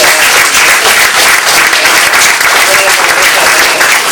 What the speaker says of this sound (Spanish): Un aplauso para nuestro invitado Luis Manuel Fernández.